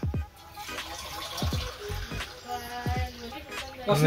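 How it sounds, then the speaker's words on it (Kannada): Water is poured from a glass into a cooking pot for uppittu, a semolina dish; the steady pour and splash runs throughout, with a few sharp knocks and clinks, close by and fairly loud. "ಇವಾಗ ಬ್ರದರ್ ನೀರು ಹಾಕ್ತಾ ಇದ್ದಾರೆ, ನೀರು ಫುಲ್ ಹೆಸರು ಬರೋವರೆಗೂ ಇಡಬೇಕು"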